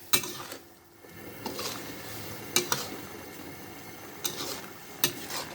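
Fish cake mixture with banana blossom is tossed and mixed by hand in a bowl, giving soft wet rustling with a few sharp clicks and knocks against the bowl, fairly quiet and with no talking.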